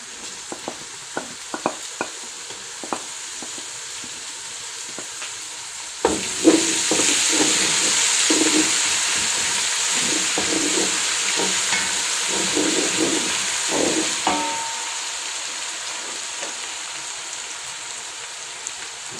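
Garlic and ginger hit hot oil in a pan as beef pilau is cooked, bursting into a loud, steady sizzle after a few quiet stirring clicks, with scraping stirs breaking through the frying hiss.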